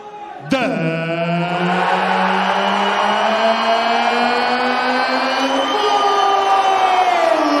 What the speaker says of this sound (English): Listen to the reaction from the crowd here.